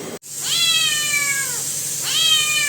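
Cat meowing twice, two drawn-out close meows with a falling pitch, separated by a short gap, clear against a quiet garden background.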